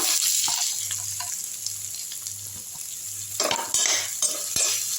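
Onions for a jackfruit seed fry sauté in a pan, giving a continuous soft sizzle under repeated spoon scrapes and clinks against the metal, which grow louder and busier toward the end. Close and fairly steady.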